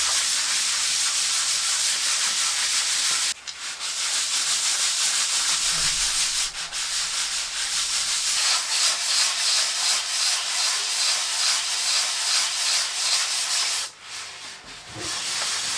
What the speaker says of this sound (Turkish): O yüzden elden zımparalamaya devam edeceğim.